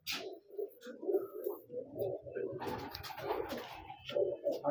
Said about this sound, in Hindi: ये बटेरा कबूतर है जी